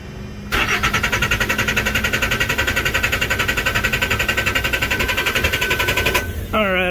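A reefer unit's diesel engine, just fitted with a new filter, cranks and catches, then runs with a steady loud rapid chugging for about six seconds before it cuts out and a voice briefly speaks.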